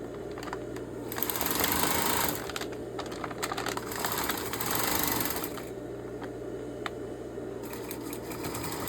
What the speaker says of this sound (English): I'm just going to continue around the bag, because the more stitching I give it, the stronger it's going to get